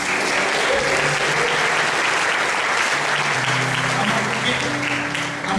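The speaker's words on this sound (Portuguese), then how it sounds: "Aplauda o Senhor, irmãos." A church congregation applauds loudly and continuously during an evening family service, a dense, even wash of many hands clapping with no break.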